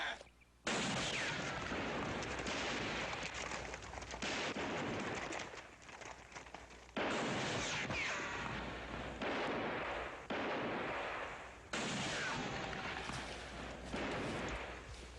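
Gunfire in the western TV show Bonanza: several loud, sharp shots crack out in bursts separated by brief quieter gaps, with echoing reports trailing after each volley.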